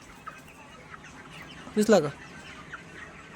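Month-old chickens in a poultry shed, a quick burst of clucks standing out over a low, steady barn hum, close by, with a brief spoken remark.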